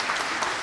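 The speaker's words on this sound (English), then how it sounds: "I think it'd be great to give a little clap" A brief, fairly soft burst of congregation clapping during a church Sunday service, a short even patter heard on its own.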